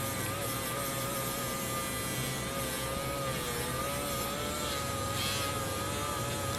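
A Dremel rotary tool whines steadily on a diecast car, a constant high buzzing drone that holds its pitch with slight wavering throughout, moderately loud and close.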